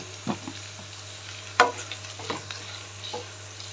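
Dried red chillies and green chillies fry in oil for dal khichdi, a soft sizzle under a low hum, broken by a few sharp utensil scrapes and stirring knocks in the pan.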